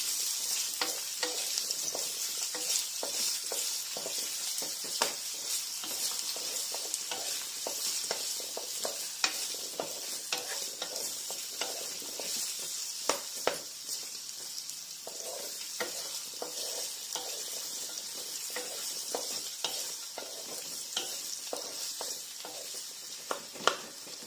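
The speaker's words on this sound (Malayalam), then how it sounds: "ഇനി ഇതിൽ പൊട്ടാറ്റോസ് ഇടാൻ പോവാണ്. ഇനി ഇത് നല്ലപോലെ ഇളക്കാം." Potatoes with spinach stirred in a frying pan give a soft, steady sizzle, with frequent light scraping taps of the spoon against the pan throughout, fairly quiet and without voices.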